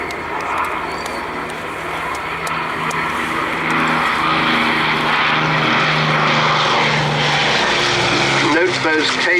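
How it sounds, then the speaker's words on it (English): A four-engined Avro Lancaster bomber of the Battle of Britain Memorial Flight passing overhead at an RAF Cosford airshow, its deep propeller drone growing louder and steady, with a commentator talking over it. "And in comes the Lancaster from the right."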